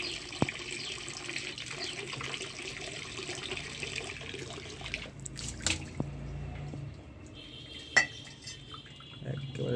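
Running water splashes steadily at close range while water is changed in a betta fish tank with almond leaves, with a few sharp clinks and drips and a brief louder splash near the end.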